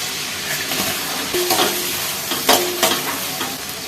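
Masala paste, green chilies and coriander going into a biryani pot, with a steady sizzle of frying and intermittent scraping stirs and clinks from a spoon against the pot, no voices.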